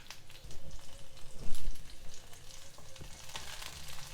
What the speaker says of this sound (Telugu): ఒక 4 పచ్చిమిర్చి ఇలా మధ్యలోకి తుంపుకొని వేసుకోవాలి. ఒక్క నిమిషం వేయించుకోవాలి వీటిని.